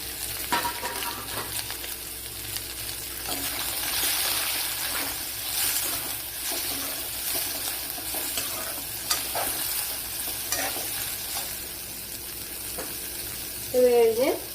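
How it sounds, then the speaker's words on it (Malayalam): Sliced onion sizzles and fries in a pan for chicken curry, a steady close hiss with occasional stirring scrapes throughout, faint voice near the end. "ഒരു വലിയൊരു സവാള ഇതുപോലെ അരിഞ്ഞെടുത്തിട്ടുണ്ട്, അതും കൂടെ ചേർത്ത് കൊടുക്കുക."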